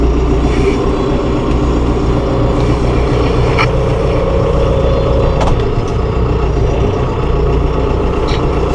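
A 2016 John Deere 5100E utility tractor with a 100-horsepower engine, driving in fourth forward gear, a loud, steady diesel drone that stays constant throughout, with a few faint clanks.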